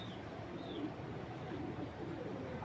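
A foreign racer pigeon coos softly nearby in low, repeated murmurs, quiet and steady against a faint background.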